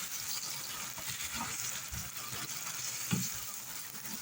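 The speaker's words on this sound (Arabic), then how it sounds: "انا هنا راح ندير صدر الدجاج اللي كنت رحيته مع البصل. نقليهم مليح." Chicken breast and onion frying in a pan, a soft continuous sizzle with occasional stirring scrapes and one brief clunk, faint and alone.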